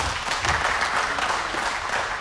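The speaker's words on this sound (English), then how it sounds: "Let's hold our applause, Governor Walker." Audience applause fills a town hall: steady, dense clapping from a crowd that holds at an even level throughout, with no speech standing out.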